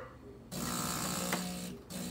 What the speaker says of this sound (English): So that's the hot water it lets out in the beginning.